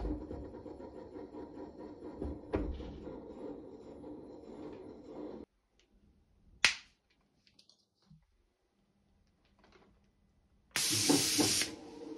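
An airless sprayer with an LP 515 tip at 1200 psi sprays emulsion paint in a loud, steady hiss. A quiet gap with a sharp click follows, then a second burst of hissing spray.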